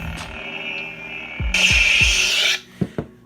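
A Saberforge The Count lightsaber deactivates over a low humming drone with a rising, hissing, crackling retraction burst lasting about a second, then a couple of soft thumps as it dies away, close and alone.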